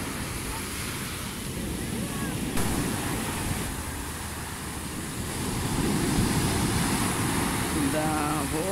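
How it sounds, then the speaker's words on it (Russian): Strong Mediterranean sea waves crash onto the pebble shoreline at Belek after a storm, a continuous loud roar of surf with wind buffeting the microphone and faint voices in the background. "Такие волны."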